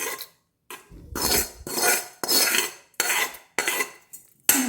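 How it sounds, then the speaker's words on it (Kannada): A metal spoon stirs tempering into doddapatre tambli, a curd-based herbal dish, in a bowl. About seven distinct scraping, clinking strokes repeat in a steady rhythm, loud and close, with no talk. "ಇವಾಗ ನಾನು ಒಗ್ಗರಣೆ ಮಾಡಿಟ್ಟಿರೋದನ್ನ ಇದಕ್ಕೆ ಮಿಕ್ಸ್ ಮಾಡ್ತಾಯಿದ್ದೀನಿ"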